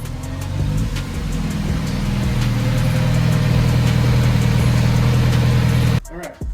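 A Kawasaki Z900RS motorcycle engine runs at a steady idle, loud and close, with a low throbbing rumble that holds evenly for several seconds before cutting off near the end.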